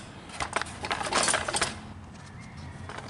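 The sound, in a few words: loosening screws on a Briggs engine cover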